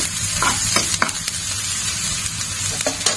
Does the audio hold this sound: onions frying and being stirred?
yes